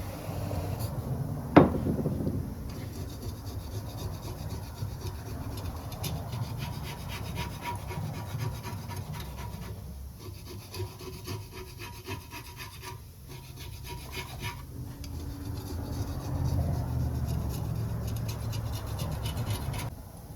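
Steady rubbing and scraping of residue off a Harley-Davidson motorcycle part, a continuous close rasping scrub with one sharp knock near the start and no talking.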